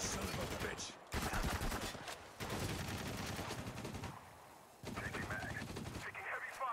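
Heavy sustained automatic gunfire in the Spec Ops: The Line video game, dense rapid bursts filling the scene with only brief gaps between volleys, loud and close.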